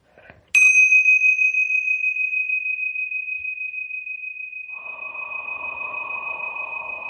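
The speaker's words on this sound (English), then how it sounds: "I'm going to go ahead and ring the tingsha bells" Tingsha bells, a pair of small Tibetan cymbals, are struck once, giving a sharp bright clash that leaves a long, pure, high ringing tone slowly fading over several seconds, later joined by a soft low hum.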